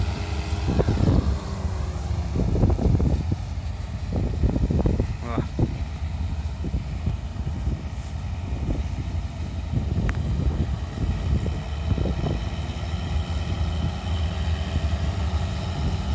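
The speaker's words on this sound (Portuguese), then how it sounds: "O trator foi virar ali em cima, já vem voltando." A tractor working a mechanized sugarcane harvest at dusk drones steadily in the open field, a loud, continuous engine hum mixed with wind buffeting on the microphone and some rustling and knocks, lasting throughout with no clear talk on top.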